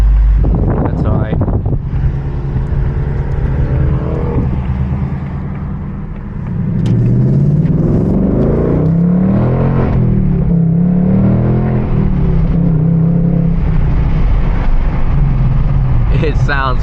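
A 2024 Ford Mustang Dark Horse with a six-speed manual accelerates with the windows down, its engine note rising and swelling under heavy, steady wind rush and road rumble.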